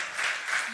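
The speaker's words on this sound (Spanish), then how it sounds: "dale un aplauso al Señor" Church congregation applauding during a Spanish-language worship service, a brief burst of many hands clapping together at moderate level.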